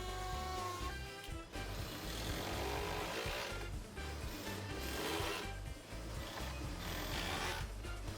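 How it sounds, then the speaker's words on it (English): A malfunctioning power drill runs steadily up close in a woodworking shop, giving a loud, continuous rough whirring grind with a few brief dips in level throughout. "And why does my drill sound like this?"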